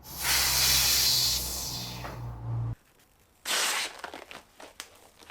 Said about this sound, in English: we're gonna have to release the air out the air chamber on your fork